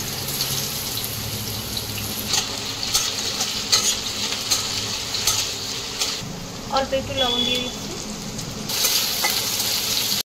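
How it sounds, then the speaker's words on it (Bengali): Potatoes fry in mustard oil in a hot kadai for cholar dal, giving a constant sizzle with scraping stirs and light clatter, while someone speaks briefly over the cooking. "আলুগুলোকে আমরা ভেজে নেব"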